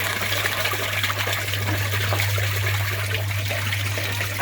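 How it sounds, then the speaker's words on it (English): Water runs into an aquaponics grow bed, a steady close trickle and gush that continues without a break under a low constant hum. "But there's now water running again."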